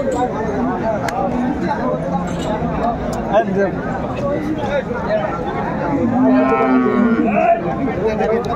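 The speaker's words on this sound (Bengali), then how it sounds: "ষাঁড় বাচ্চা" Young bull calf mooing at a busy cattle market, its calls rising clearly over steady crowd chatter and nearby talking voices, louder toward the end.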